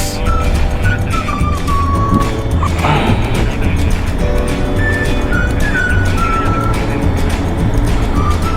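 Car driving on a national highway, a loud, steady road and engine rumble with wind and tyre noise throughout, plus a few faint higher tones and a brief passing whoosh.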